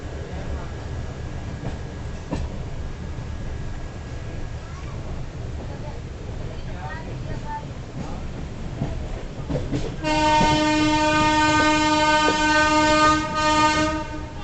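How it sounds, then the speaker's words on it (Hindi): Andhra Pradesh Express pulling into Nagpur Junction, with steady rolling rumble and clatter, then loud sustained horn-like tones from about ten seconds on; talk runs through the clip. "थोड़ी देर में हमारी ट्रेन नागपुर पहुंच जाएगी। Nagpur station, Nagpur junction."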